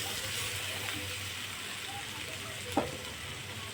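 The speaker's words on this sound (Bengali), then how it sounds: "আবার একটু আলুগুলোকে ভাজা ভাজা করে নিয়ে মশলা নিলাম" Potatoes frying in a pan with salt and spices for a leafy greens dish give a soft, steady sizzle throughout, with one brief utensil clack near the end and no talking.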